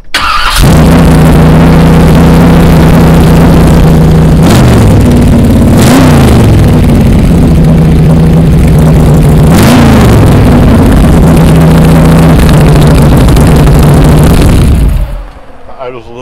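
A 1923 Ford extended Model T T-bucket hot rod engine fires up and idles high and loud, with two or three sharp revs blipping over the steady rumble before it cuts off near the end.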